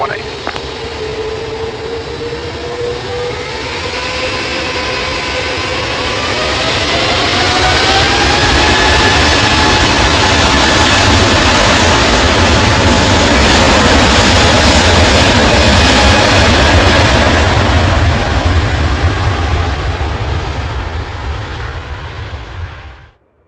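An Emirates jet airliner's engines roar during takeoff, building from a steady whine to a loud sustained rumble that stays strong for many seconds, with a rising tonal whine and radio talk mixed in before the sound cuts off.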